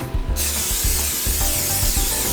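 Cooking spray hisses onto a brownie pan in one sustained close burst, alone with no talking.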